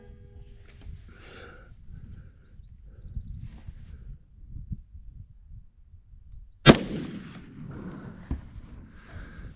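An LR308 rifle fires a single round of Winchester ammunition, one loud, sharp report partway through, followed by a short echo and quieter handling noises outdoors.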